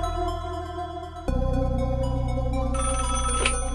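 A telephone rings in a video game: a steady droning electronic tone, then a loud buzzing ring that rises in pitch and repeats rapidly, close and alone.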